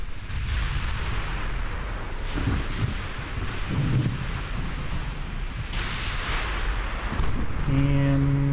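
Naval gunfire rumbles through a 1920s German fleet battle in the warship game Ultimate Admiral Dreadnoughts, a loud, continuous roll of overlapping booms and distant blasts with no pause, ending under a few steady tones.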